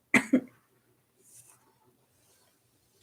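Two quick, sharp coughs close by, then near silence broken only by a faint rustle.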